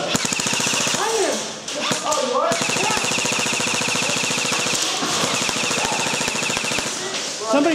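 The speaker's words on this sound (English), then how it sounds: "Somebody's shooting through something small." Rapid airsoft gunfire rattles almost nonstop through an indoor airsoft field, loud, close and echoing, with overlapping bursts of snapping shots and brief voices underneath.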